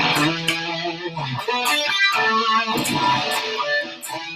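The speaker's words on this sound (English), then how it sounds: "He would use a fuzz, which is a super high gain," Electric guitar driven through a high-gain fuzz pedal, a thick, saturated run of sustained and shifting notes with a hazy buzzing edge, played close and loud without pause.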